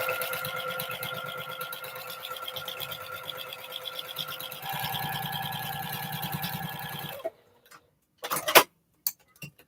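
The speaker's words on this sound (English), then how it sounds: "I'm watching my machine marking for the 1/4 inch seam allowance and try to lock in my seams and get it done." A sewing machine stitches quilt block seams at a quarter-inch seam allowance with a rapid, rhythmic chatter for about seven seconds, then stops, leaving a few short, sharp clicks and bumps.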